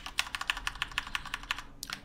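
Quick, light clicks of a computer keyboard as a command is typed during Minecraft play, a close rhythmic run of about a dozen keystrokes with nothing else heard.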